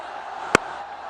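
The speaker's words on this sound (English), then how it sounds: "Listen to the crowd." Stadium crowd at a Pakistan Super League cricket match roaring after a boundary struck by Babar Azam, a steady distant wash of voices with one sharp loud burst partway through.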